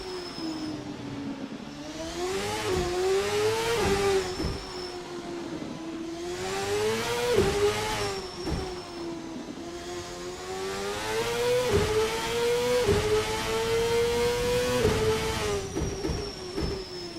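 A race car engine in a CART racing game at Long Beach, a loud droning howl that climbs and falls repeatedly through gear changes and corners, continuous and close without talk.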